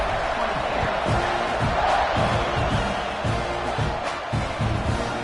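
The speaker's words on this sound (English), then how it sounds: "this crowd is buzzing after that last score" A football stadium crowd buzzes in a steady, loud roar after a score late in the fourth quarter, with scattered shouts and cheers rising through the continuous din.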